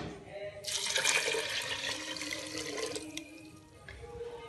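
Water pours in a strong, splashing stream into a pressure cooker of mung and masoor lentils for a few seconds, tapering off toward the end, with a faint voice in the background.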